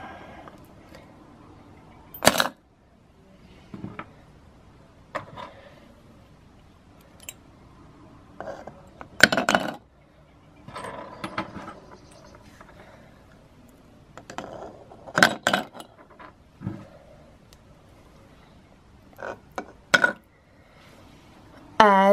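Iron nails dropped in pairs into glass test tubes, giving scattered sharp metallic clinks and taps at irregular intervals, fairly close, with quiet pauses between.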